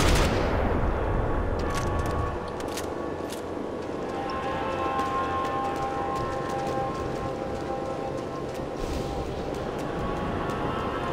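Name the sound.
gunfire in video game Max Payne 3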